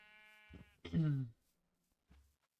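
A sheep in a Minecraft GregTech modpack world gives a single clear, close bleat with a short lead-in, followed by quiet game ambience and a faint thud.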